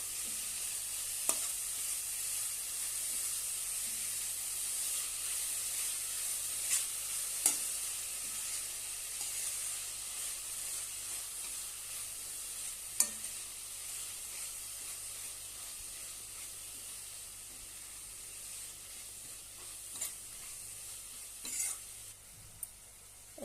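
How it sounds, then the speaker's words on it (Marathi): Chopped spinach sautéing in a pan for spinach-onion chutney, a soft continuous sizzle and hiss with a few sharp utensil taps against the pan, fairly quiet and close, no talking. "पालक कट केलेले ते घालूया आणि छानपैकी परतून घेऊया"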